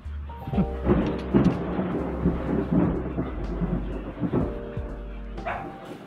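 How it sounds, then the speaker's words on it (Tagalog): Stormy morning weather brings rain and gusting wind with a low rumbling roar, and a nearby dog barks several times over the noise. "ayaw pa rin tumigil ng ulan. Saka yung hangin."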